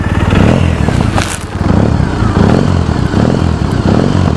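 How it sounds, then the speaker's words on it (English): A loud Triumph Bonneville engine with high-flow exhaust pipes runs close by with a steady low rumble, briefly dipping mid-way, then resuming with crackly overrun. "Triumph high flow pipes. With a bit of overrun."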